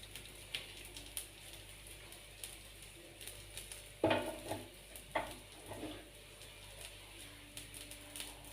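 Quiet, steady sizzle of dosa batter frying in oil on a pan, with a few soft scraping clicks of a spatula standing out partway through, no voices.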